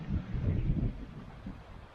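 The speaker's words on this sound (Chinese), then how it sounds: "峡谷里风很大" Strong wind gusts through Todra Gorge in Morocco, buffeting the microphone as a low, rumbling roar that swells and then eases over two seconds.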